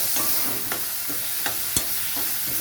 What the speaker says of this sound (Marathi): आता हा मसाला भाजला गेला आहे, आपण टमाटर टाकूया.